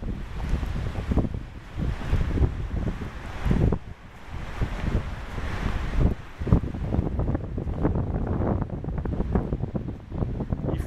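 Strong gusty wind on a hiking trail buffeting the microphone in loud, roaring surges that rise and fall throughout, with no voices.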